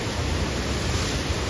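Rising Koshi River water surging at the Koshi Barrage in Nepal, a constant heavy rushing roar with low rumble underneath, loud and unbroken throughout.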